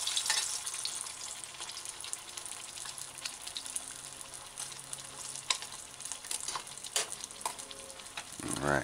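Fish fillet deep frying in hot oil with a steady, dense sizzle and crackle, constant and fairly close, with small pops scattered through and no talking.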